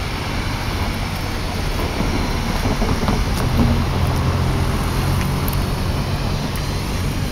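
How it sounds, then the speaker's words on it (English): The Durango and Silverton train sits at a station, giving off a steady, loud low rumble with mechanical noise that swells slightly partway through, heard up close with no talking. "You may not want to stand there when the train departs."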